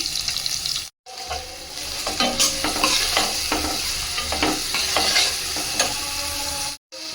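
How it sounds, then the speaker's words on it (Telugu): Onions frying in a pan with coarsely crushed ginger and garlic, a busy close sizzle with repeated spatula scrapes and stirring clatter, briefly cutting out twice. "నెక్స్ట్ ఇందులో ఉల్లిగడ్డ వేసుకుందాం"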